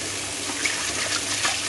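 Water running steadily while raw sauerkraut is rinsed, a continuous close hiss of splashing flow with no pauses over its brief span.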